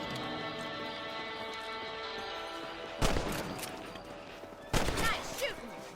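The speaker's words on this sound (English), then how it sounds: "You're better at shooting rabbits than outlaws, I see." Rifle shots ring out at rabbits in the video game Red Dead Redemption: two sharp reports about two seconds apart, each trailing into a short rumble over a steady background of game ambience.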